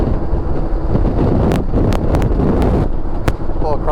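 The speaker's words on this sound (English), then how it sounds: "A little crosswind there." Steady low wind roar and buffeting against a car cruising on Highway 72 East between Huntsville, Alabama and Chattanooga, with a few brief gusty thumps and faint voices in the cabin.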